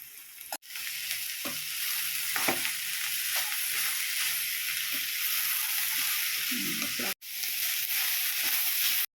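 Onion, green chili and curry leaves frying and being stirred in a hot oil tempering for a banana stem sambar with cooked beans and coconut, a steady close sizzle with scattered stirring clicks and two brief cut-outs.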